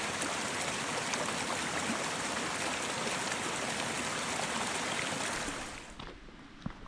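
A creek flows steadily over rocks on a forest trail, a loud continuous rushing wash that fades out near the end.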